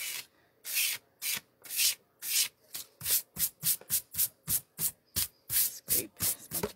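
Paint scraped off a taped-down surface in a fine-art floral painting session, heard as a series of close, regular rasping strokes, roughly fifteen in a steady rhythm, with no talking.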